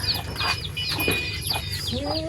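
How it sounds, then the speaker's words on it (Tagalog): Chickens cluck and murmur close by in a steady, busy chorus, with a few higher chirps mixed in and no talking. "Ito po mga alaga ng manok ni mama."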